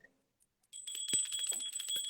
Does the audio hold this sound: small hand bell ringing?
yes